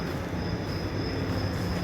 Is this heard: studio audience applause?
no